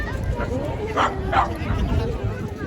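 A dog barks twice in quick succession amid a busy crowd of people in the Netherlands, the barks standing out over constant chatter and nearby voices.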